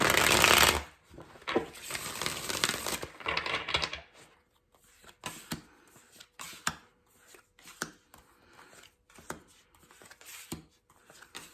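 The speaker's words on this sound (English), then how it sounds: "One more shuffle." Tarot cards being shuffled close up, several riffling bursts followed by softer repeated shuffles and taps, no voices.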